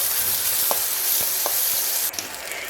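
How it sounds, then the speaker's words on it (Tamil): Onion and chilli fry in a pan with a loud, dense, continuous sizzle, close up, with a few faint taps of a spoon and a small scraping shift near the end. "வெங்காயம் ஃப்ரை ஆகட்டும்"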